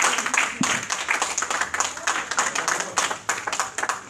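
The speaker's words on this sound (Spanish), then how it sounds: "Habrá alguien que aplauda al Señor Jesucristo" A church congregation breaks into steady, dense applause during a sermon, many hands clapping together in a continuous wash for several seconds.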